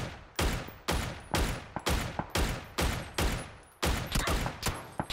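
Rapid gunfire from the video game PUBG during a squad match, roughly a dozen sharp, loud shots in quick irregular bursts with short pauses between, no talking.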